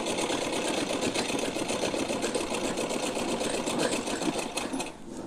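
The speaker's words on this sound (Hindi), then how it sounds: "और यहाँ लगाने के बाद इस पर सिलाई कर देंगे। दोनों पर हम सिलाई लगा लेते हैं।" A sewing machine stitches golden piping trim onto a small festive outfit, a fast steady mechanical whirring with rapid rhythmic needle ticks, close and continuous before slowing at the end.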